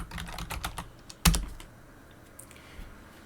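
Close typing on a computer keyboard on a Linux Ubuntu setup: a quick burst of key clicks, one sharp louder keystroke, then a few sparse taps fading into quiet.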